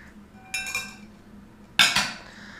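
A spoon stirs chocolate cake batter for a moelleux au chocolat in two short bursts, with bright metallic clinks and scrapes against the bowl and near-silence between them.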